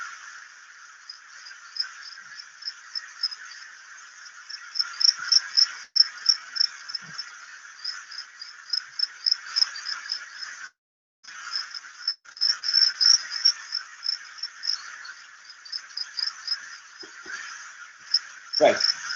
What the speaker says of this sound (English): They are moving parallelly to each other, croaking